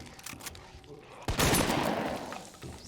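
A shotgun firing in the Resident Evil 2 Remake video game, one loud close blast with a decaying tail over quieter game background.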